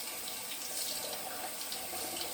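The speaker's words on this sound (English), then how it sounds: "So I rinse it under the tap." A razor is rinsed under a running tap, a steady, close, continuous splash of water in a sink with no talking.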